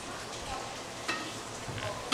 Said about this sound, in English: Stir sauce.